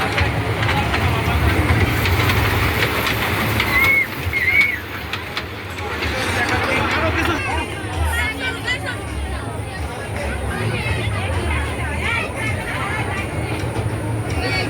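A mini train rumbles past at an amusement park with a steady mechanical roar and clatter, amid a crowd's background chatter.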